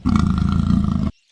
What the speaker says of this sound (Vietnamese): con báo, Leopard.